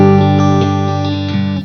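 Friedman IR-D guitar amplifier on its clean channel 1 with no effects, a sustained clean guitar chord ringing out with a few soft picked notes, slowly decaying over under two seconds.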